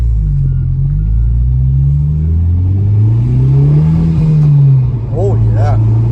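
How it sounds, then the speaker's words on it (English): A 2019 Honda Civic Type R fitted with a PRL intake revs hard with a loud, steady engine drone that rises and falls, with a brief turbo whoosh near the end as the blow-off valve vents. "Now you can hear that blow-off valve even more."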